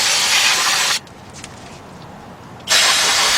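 Two long, loud hissing bursts of spray cleaner on the front brakes of a Ford Bronco, E150 or F150 pickup, one at the start and one at the end, with a quiet gap between.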